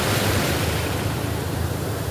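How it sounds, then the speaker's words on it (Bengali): Ocean surf at Cox's Bazar beach gives a steady, loud roar of breaking waves that fills the whole clip, with no voices. "সমুদ্রের গর্জন"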